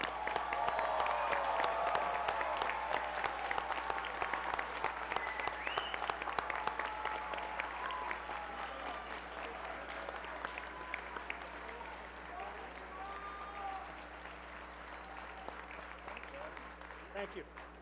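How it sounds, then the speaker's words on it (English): Sustained audience applause at a college commencement ceremony, dense clapping from a large crowd that stays loud for nearly twenty seconds and slowly thins toward the end. "Let's give them a round of applause."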